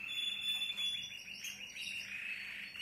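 A male songbird with a strong, clear voice sings from below, its bright trilling notes held steady near and moderately loud against quiet background hiss for the whole stretch.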